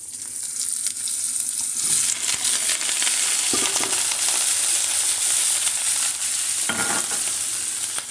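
Meat goes into a hot pan with garlic for a Filipino home dish, producing a loud, continuous close-up sizzle and crackle with occasional stirring scrapes throughout.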